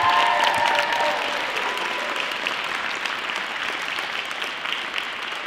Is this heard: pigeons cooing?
no